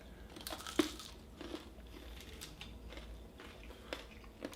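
Crisp crunches from biting into freshly fried turon, a Filipino banana roll with a crackly wrapper, a sharp bite followed by softer chewing crackles at close range, no one speaking.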